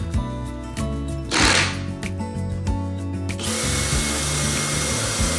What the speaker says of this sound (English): I make sure that the boards are aligned as possible before I screw the screws all the way in.